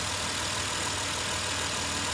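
A 2008 Dodge Caravan engine idles steadily at close range, a constant low rumble with no talk, the idle wavering slightly as if near stalling after start-up.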